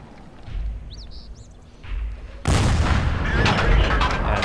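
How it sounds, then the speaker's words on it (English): The AT2 tank's gun fires rapidly at a Panzer III in World of Tanks. After a quiet, low rumble, a loud burst of shots hits suddenly and keeps going as a dense, continuous barrage. "now it's this Panzer III that must endure our rapid fire wrath"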